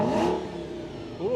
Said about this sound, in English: Let's see if I can give them a little sound of the exhaust. You want to give it a rev?